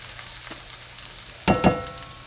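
A Spanish potato omelet fries in a pan with a soft, steady sizzle, broken by a couple of brief louder crackles or pan clatters near the end; no one speaks.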